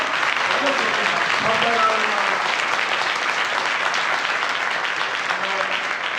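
A church congregation claps steadily at a ministry service, dense sustained applause with a voice briefly heard underneath.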